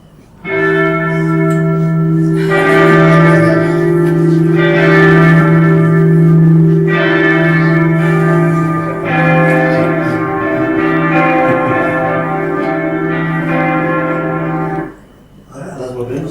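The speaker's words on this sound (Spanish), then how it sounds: "Vamos a poner campanas ahora." Church bells peal loudly and steadily with rich sustained overtones and reverberant echo, ringing for about fifteen seconds before cutting off abruptly.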